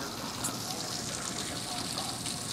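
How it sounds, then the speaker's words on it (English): Heavy rain pours steadily during a storm outside a garage, a dense, even hiss with no voices. "You tell me you can't see that rain on that camera."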